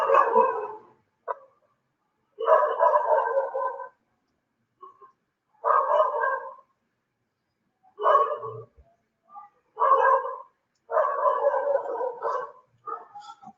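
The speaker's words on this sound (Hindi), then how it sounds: "कुत्ता भौंक रहा है" A dog barks in repeated bursts, several loud volleys separated by short silences, close and clear with no talking.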